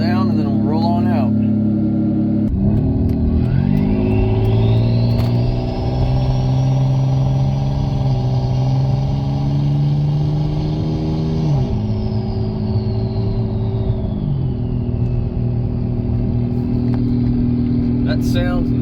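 A Corvette engine at a car show starts, then settles into a loud, deep, rumbling idle with a couple of throttle blips that rise and fall, close by and dominating.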